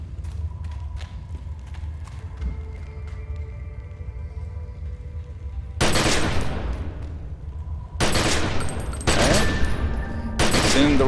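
Weapon ability fire against a practice target in the video game The Secret World: after quieter ambient game sound, bursts of loud rapid gunfire break out in three separate volleys, close and harsh.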